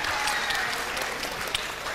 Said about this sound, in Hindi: तालियां होनी चाहिए बहुत सारी भाई के लिए।